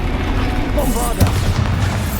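A Bombarda spell explosion in the Hogwarts Legacy video game on Xbox Series S goes off as a single short, loud boom over continuous game noise and a spoken voice.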